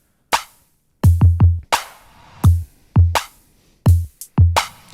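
A halftime electronic drum beat made in Bitwig plays back: sharp kicks and snares in a slow, punchy pattern with short gaps of silence between hits, loud and dry with no voice.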